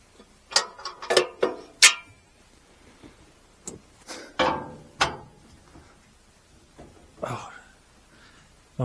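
Metal clanks and clicks as swing stop bolts are pulled on a New Holland haybine, a burst of several sharp knocks followed by scattered single taps, close and fairly quiet.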